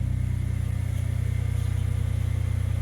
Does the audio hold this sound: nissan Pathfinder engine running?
yes